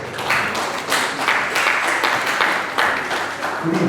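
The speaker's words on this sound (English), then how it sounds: "Give him a round of applause." Wedding reception guests applaud the groom's father before his toast, with a dense, sustained round of clapping from a crowd that stays loud and fairly near throughout.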